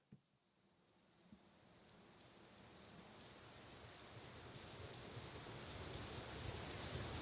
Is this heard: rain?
yes